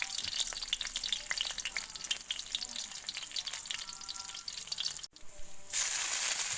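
Garlic frying in hot oil crackles in a bright, busy sizzle with frequent small pops and stirring, close up. A brief break comes near the end before the hiss resumes louder.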